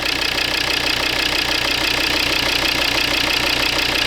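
Volvo V60 diesel engine idling roughly just after starting, with no fuel pump in the tank; a steady, harsh mechanical drone with a knocking edge runs continuously and close, with no talk.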